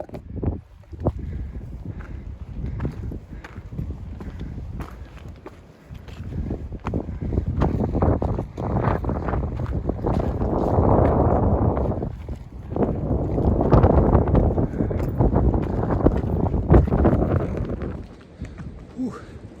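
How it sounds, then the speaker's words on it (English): Strong gusty wind buffets the microphone with a loud roaring rumble that swells and eases in waves. "it got cold and windy in a hurry"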